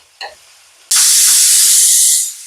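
A pressure cooker holding mutton curry lets out its whistle. After a faint click, a loud, sudden rush of hissing steam begins and holds steady for over a second before easing off.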